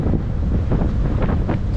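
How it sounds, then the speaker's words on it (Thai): Strong wind buffets the microphone high on a cold Thai mountain, Doi Soi Malai, a loud, continuous rumbling roar that gusts unevenly throughout. "ลมมันแรง"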